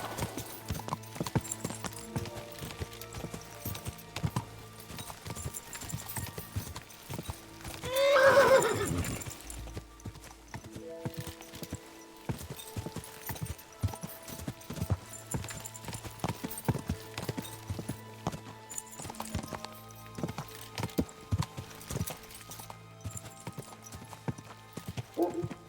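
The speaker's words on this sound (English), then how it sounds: "Easy, good horse." Horse hooves clip-clop steadily at a gallop in the medieval game Kingdom Come: Deliverance II, with one loud close neigh partway through, over a continuous game music and ambience bed.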